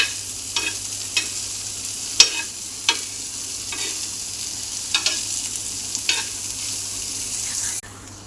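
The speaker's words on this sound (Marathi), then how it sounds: "तर याला आपण चांगलं परतून घेऊयात." Corn is sautéed in a pan with a steady sizzle under repeated scraping stirs, about a dozen sharp strokes spread across the clip, before a sudden cutoff near the end.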